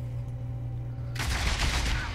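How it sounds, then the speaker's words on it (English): Sudden gunfire in the video game Warhammer 40k: Deathwatch, a loud burst of rapid shots that breaks out about halfway through after a quiet low hum. "you're going to shoot that thing"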